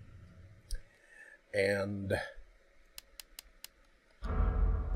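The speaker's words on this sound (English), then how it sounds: "Yeah, there's a typewriter here." Typewriter save point in the video game Resident Evil 2 Remake, heard as a run of four sharp, evenly spaced clicks alone in a quiet stretch, with a brief spoken word and other game sounds around it.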